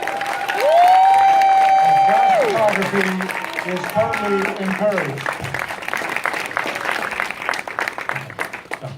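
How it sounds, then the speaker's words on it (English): A graduation audience at a film school ceremony applauds in a broad, sustained wash of clapping and crowd noise beneath a voice speaking over a public-address system. "This is a great time to applaud."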